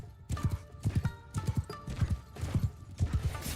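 Hoofbeats of a galloping horse in the medieval combat game Chivalry 2 pound out a quick, repeated clip-clop rhythm through the whole stretch, fairly loud amid faint battle ambience.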